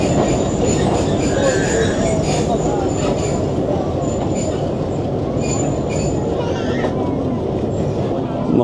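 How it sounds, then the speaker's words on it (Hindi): A 267UP passenger train pulls away from Baldher station on the Rawalpindi–Havelian line, a steady loud rumble of wheels and railcars with faint squeals, continuous and close throughout. "ट्रेन ने मूव करना शुरू किया बलदेर से"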